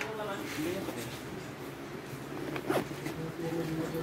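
A zipper runs along a Blackpink-themed children's bag as it is opened, a close rasping pull with a couple of short strokes against light room noise.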